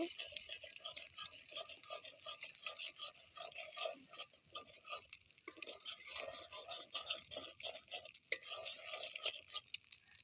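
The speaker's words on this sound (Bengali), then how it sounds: "এর ভিতর দিয়ে দেবো একটা ডিম এখন সবগুলোকে একসাথে ভালো মতো মিক্স করে নেব" Pasta ingredients and an egg being mixed together at home, with a steady run of quick stirring and scraping close up, busy and continuous with no talk.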